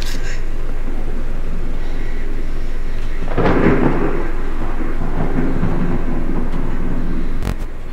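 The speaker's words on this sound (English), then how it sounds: "Thunder, man." Thunder and steady rain in the horror game Escape the Ayuwoki: a continuous wash of rain with a loud rumbling thunder crack rolling in around the middle, then a sharp bang near the end.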